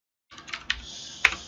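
Keystrokes on a computer keyboard typing a command into an Ubuntu terminal, a short burst of a few soft clicks with two sharper taps, close and alone with no talk.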